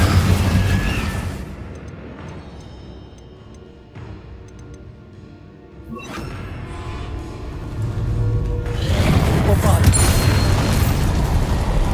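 Incendio fire spell cast in the Hogwarts Legacy video game, heard as loud booming, bursting whooshes that swell twice over a dense game soundscape with a lull between them.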